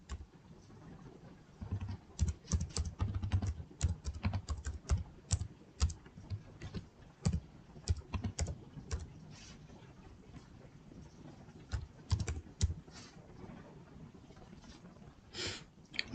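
A password being typed on a computer keyboard: quiet, irregular clusters of key clicks with short pauses, heard up close in an otherwise still room without speech.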